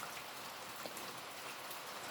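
Steady rain falls as a soft, even hiss of drops pattering on surfaces, continuous and fairly quiet with no voices.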